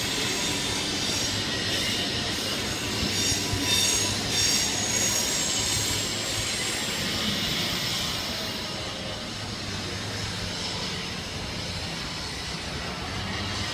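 A Sydney Trains K-set electric train moves through Central station, its loud rumble joined by high metallic wheel squeal, with no voices present.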